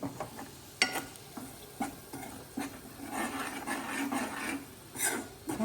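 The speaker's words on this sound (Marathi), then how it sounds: "गरम मसाला मसाले सगळे चांगले मारून घ्यायचे" Garam masala spices stir-fried in a pan for a pea curry: repeated scraping spoon strokes over a low crackling sizzle, close and moderately loud, with no one speaking.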